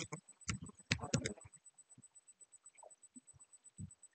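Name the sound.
typing on a computer keyboard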